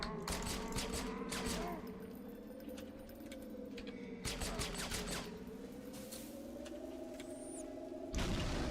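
A boss in Halo 2 fires a modified gravity cannon, heard as a loud, sustained barrage of gunfire and booming bursts against a droning hum, with sharp breaks in the volley near the middle and end.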